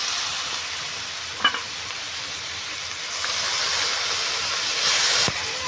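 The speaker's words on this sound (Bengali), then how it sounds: "এবার আমি নাড়াচাড়া করে নেব, কিছুক্ষণ ভেজে নেব" Fish mixture for a fish tona frying in oil in a pan, a steady close sizzle with a spoon stirring and occasional scraping clinks, no talk.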